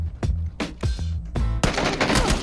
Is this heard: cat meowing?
no